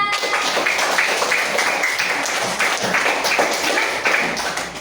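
A classroom of students claps together, rapid overlapping hand claps, loud and steady for several seconds with no talk.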